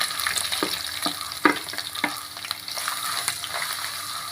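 Sliced ginger sizzles in hot oil in a pan for a mango pickle while a spoon stirs it, with steady frying hiss and occasional scraping knocks against the pan, no voices.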